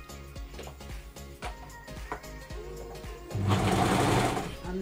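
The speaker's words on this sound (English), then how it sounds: "then you could just finish it off on your serging machine" A Brother 1034D serger stitches fabric close by, starting with slow, separate mechanical thumps and then running into a fast, steady whirring burst near the end.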